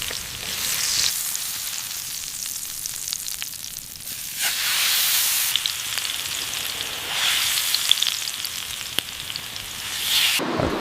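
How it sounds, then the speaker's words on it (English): Patties coated in oil and wild grain flour sizzle on a hot stone in an outdoor forest kitchen, a steady close frying hiss with scattered pops and crackles, no talking. "Listen to that sizzle."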